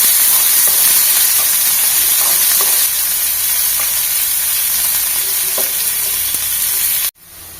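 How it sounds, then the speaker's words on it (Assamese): Chopped onion fries in oil in a pan, with a loud, steady sizzle and hiss and occasional stirring clinks, then cuts off abruptly near the end. "পিঁয়াজখিনি ৰঙচুৱা হোৱালৈকে ভাজি ল'ম অলপ"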